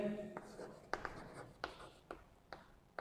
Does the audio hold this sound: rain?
no